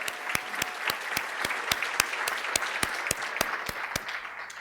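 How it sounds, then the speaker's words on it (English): Dinner guests at an awards gala clap for honorees in a soft, even round of applause, with a few sharper individual claps standing out against the steady patter. "A round of applause."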